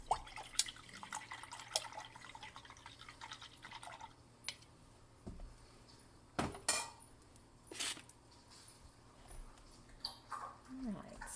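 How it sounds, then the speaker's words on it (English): A paintbrush is rinsed in a cup of water while painting Christmas gnomes, with soft drips, swishes and clinks close by, fairly quiet and intermittent. "I'm going to go ahead and rinse out my brush here"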